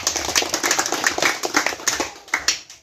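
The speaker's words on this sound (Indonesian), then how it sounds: "Kita tepuk tangan dulu." A crowd claps at a political campaign gathering on Moko island, a close, lively burst of uneven handclaps with sharp individual slaps over a faint murmur.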